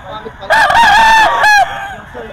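A rooster crows loudly and close at a busy poultry market, one long drawn-out cock-a-doodle-doo with a brief second burst at its end, over faint background murmur.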